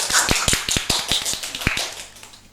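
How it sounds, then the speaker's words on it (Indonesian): A small group claps for a guest arriving at a podcast studio, giving a quick burst of scattered, uneven hand claps that fade after a couple of seconds. "Tepuk tangan dulu."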